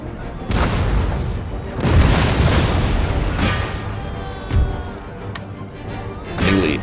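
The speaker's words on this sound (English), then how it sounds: "All artillery, target this artillery." Artillery cannon fire in a Total War: Empire battle with Russian forces, deep booming blasts that roll and rumble, several heavy bursts spread across the span with lingering battlefield noise between them.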